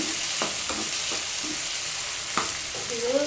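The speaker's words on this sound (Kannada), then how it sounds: "ಸ್ವಲ್ಪ ಈ ಥರ ನೀಟಾಗಿ ಬಾಡಿಸ್ಕೋಬೇಕು" Chopped onion and tomato sizzling in an oil-filled pan as a cook sautés them, a steady bright hiss broken by a few soft stirring scrapes of a spoon, close and fairly quiet with no voices.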